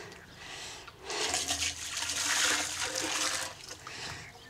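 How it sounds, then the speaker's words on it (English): Boiling water is poured over dairy utensils in a Tudor farm dairy. A steady splashing gush runs for about three seconds, trickling before and after, with no voices. "Boiling water."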